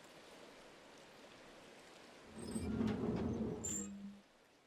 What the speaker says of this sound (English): right now, okay, you hear the water.